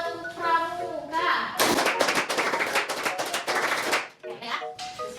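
A class of students performs a rhythmic scout clap, sharp rapid hand claps in a patterned sequence lasting a few seconds, close and loud, with voices chanting before and after.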